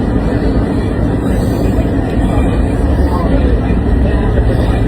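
Inside a crowded train in Barcelona on a hot day with broken air conditioning, a steady loud rumble of the moving carriage fills the space without a break.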